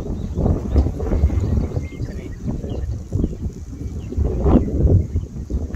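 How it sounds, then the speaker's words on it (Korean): Strong wind blowing across a golf course on Jeju Island, a loud, continuous gusting roar buffeting the microphone, swelling and easing with no talk. "바람 많이 부네"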